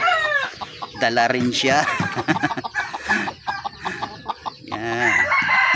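Roosters crow loudly and repeatedly, with busy clucking between crows, up close, in Laurel, Batangas. A brief spoken phrase is mixed in.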